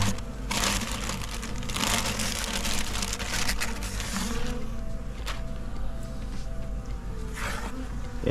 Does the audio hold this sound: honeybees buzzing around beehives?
yes